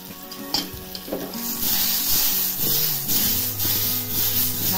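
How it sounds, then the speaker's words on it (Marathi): Indian gooseberries cooking in oil with salt are stirred steadily in a pan, giving a continuous close sizzle with repeated scraping strokes and soft tonal sounds running underneath. "आवळं शिजवताना त्या प्रकारे सारखं सारखं असं हलवत राहायचं आहे"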